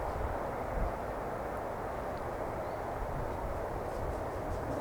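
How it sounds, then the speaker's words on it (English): Emirates airliner taxiing at Manchester Airport, a loud, steady broadband engine roar holding constant throughout with no breaks. "Ladies and gentlemen, the Emirates is taxiing now."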